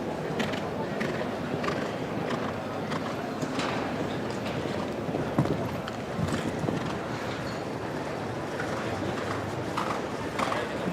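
Hooves of a young horse in a show jumping round at the Queens Cup in Barcelona, heard as a steady rhythmic clip-clop under continuous crowd and arena noise, with commentary talk throughout.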